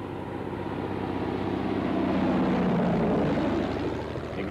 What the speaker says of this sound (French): d'où vient venir cet avion?